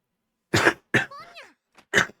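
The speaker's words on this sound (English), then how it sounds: "I hope this cough is gone by tomorrow." A person coughs in several hard, close bursts with a raspy throat-clearing rattle between them, loud against otherwise silent surroundings.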